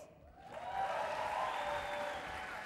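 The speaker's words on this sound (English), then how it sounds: "Huge round of applause." Studio audience applauding at a Tusker Project Fame Season 5 television show, a dense, sustained wash of clapping that swells after a brief start and holds steady with crowd noise.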